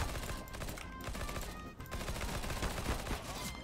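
Sustained P90 submachine-gun fire in Counter-Strike: Global Offensive, a dense continuous rattle of rapid shots with brief pauses, loud and close, mixed with other in-game noise.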